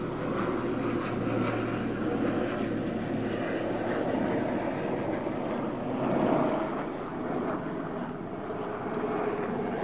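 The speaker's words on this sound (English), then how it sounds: "there's a few military helicopters flying over." A continuous, loud drone of several military helicopters passing overhead, rumbling steadily for the whole stretch and swelling slightly midway, with no one speaking.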